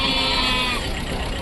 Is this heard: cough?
no